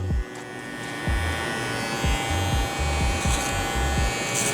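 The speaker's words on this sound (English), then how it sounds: "So we're just gonna clipper over comb the rest of this bulk." A Babyliss Rose Gold FX One clipper cutting hair clipper-over-comb, a close, steady electric buzz with repeated low thumps as the comb and blade pass through the bulk, no talking.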